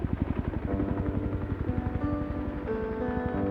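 A medical emergency response helicopter flies close by in Afghanistan, its rotor thudding in a fast steady rhythm over a loud, dense engine whine, with no voices.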